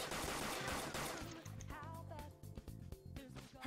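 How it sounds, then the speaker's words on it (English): Rapid gunfire from a gun attack in the video game Persona 5, a dense burst of shots up front that thins into scattered bursts over game music and effects. "You can continue shooting until you run out of ammo."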